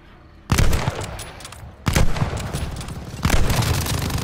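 Machine gun fire in Call of Duty Vanguard zombies mode: three loud, sustained bursts of rapid automatic shots, each starting sharply and blurring into a dense rattling roar, with brief quieter gaps between them.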